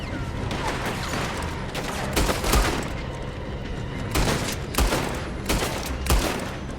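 Repeated gunshots ring out in Red Dead Redemption 2 during a fight aboard a moving train, with loud, sharp volleys every second or so over a steady rumbling background.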